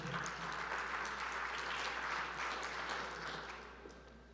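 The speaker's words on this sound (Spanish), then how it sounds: "Un aplauso para él." Applause from an audience at a corporate CEO panel as the moderator comes up, steady and fairly distant, tapering off toward the end over a low steady hum.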